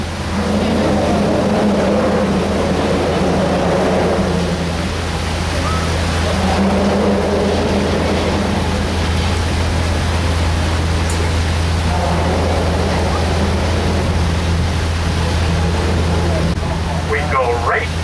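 A boat engine drones steadily over rushing water as the boat passes in Tampa, Florida, a constant low rumble filling the scene without letting up.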